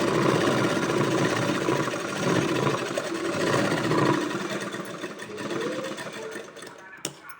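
Sewing machine stitching across the triangular corner of a rabbit-style cap, a steady loud mechanical whir running continuously with slight variations, ending with a brief sharp click.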